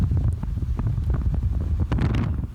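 Strong wind buffets the microphone aboard a fishing trawler entering the Montauk inlet in snowy weather, a loud, gusty, rumbling roar that continues throughout with no voices.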